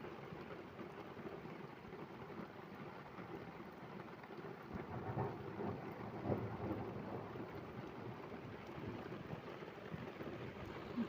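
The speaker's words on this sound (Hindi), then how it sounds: "तेज़ बारिश।" Heavy rain pours in the mountains near a cowshed, a faint and steady hiss with low thunder rumbling softly underneath, the rumble swelling slightly partway through; no one speaks.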